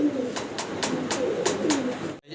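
A breeding pair of Red Neck Budapest pigeons coos nearby in a low, rolling rhythm, with several brief flutter-like bursts repeating over roughly two seconds before a sudden cutoff.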